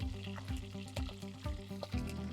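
Curry leaves and onions crackle and sizzle in hot oil, with rhythmic clinks of a spatula against the pan and steady frying noise underneath, close and moderately loud.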